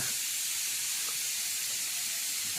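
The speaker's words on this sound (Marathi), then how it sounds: "मम्माने शिटी लावली, कुकर लावलाय?" Steam hisses out of a pressure cooker whistle in a steady, continuous rush, close and even, with no break for the whole stretch.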